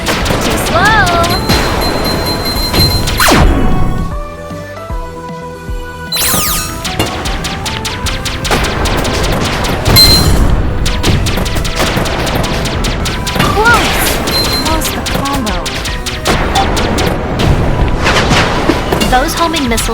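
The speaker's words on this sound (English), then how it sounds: "Those homing missiles will aggressively attack your position." Homing missiles exploding in a video game: a dense, loud barrage of booms, crashes and blasts that runs continuously, heavily layered with game music and effects.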